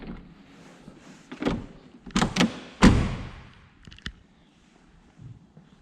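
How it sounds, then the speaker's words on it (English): Door of a 1986 Lamborghini Countach being worked and shut, giving several solid thumps and latch clunks close by, with a lighter click near the end and no talking. "And yes, I do know how to properly close the door on these."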